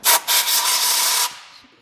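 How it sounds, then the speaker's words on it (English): A reverse (left-hand) drill bit bores into the center of an exhaust manifold stud on an Eclipse GSX engine, giving a close, harsh grinding whir in two short bursts, then a steady run of about a second before it tapers off. "So right now I'm drilling right into the center of this manifold stud."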